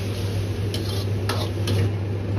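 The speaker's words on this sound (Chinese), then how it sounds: "翻炒个10秒钟左右。" Loofah and chopped green and red chili peppers are stir-fried in a wok over high heat, with a loud, continuous sizzle and occasional scraping of the spatula, close by.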